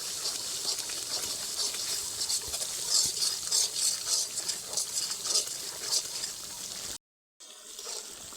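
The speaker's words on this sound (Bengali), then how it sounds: "পেঁয়াজ আদা রসুন খুব সুন্দর ভাজা ভাজা হয়ে গেছে" Onion, ginger and garlic fry in oil with chili and turmeric powder for a chicken biryani, making a steady bright sizzle with stirring scrapes, broken by a brief dropout near the end.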